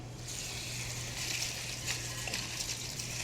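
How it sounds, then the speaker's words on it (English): Hot tap water runs steadily from a kitchen sink faucet in a continuous close gush, alone. "I'm going to cover these with very hot tap water."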